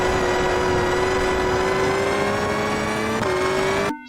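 Rally car engine in Richard Burns Rally, a 2004 rally sim, held at a steady high drone with a slight rising pitch, a quick dip as throttle and brake shift, then abruptly cut off.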